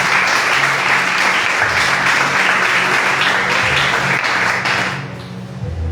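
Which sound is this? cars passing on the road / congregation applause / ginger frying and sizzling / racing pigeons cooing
congregation applause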